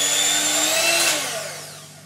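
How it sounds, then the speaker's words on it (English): An electric whisk whirs steadily while beating margarine and ground almonds for a Battenberg cake, a loud close motor hum whose pitch shifts slightly before easing off toward the end. "Then I'm going to take my whisk."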